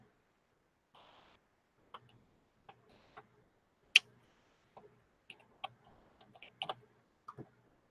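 Typing an email address on a keyboard, sparse irregular clicks and taps in an otherwise quiet room, close and faint, with one sharper louder key strike partway through and a quick cluster of presses near the end.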